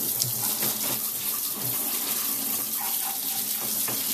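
Tap water runs steadily over a used RC car as it is rinsed clean, a continuous splashing hiss with no pauses, fairly close and alone.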